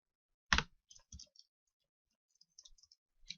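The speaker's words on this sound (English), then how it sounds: "each time you press the spacebar, a candle will print" A computer keyboard spacebar is pressed with one loud close click, followed by a few lighter scattered key taps in a quiet room.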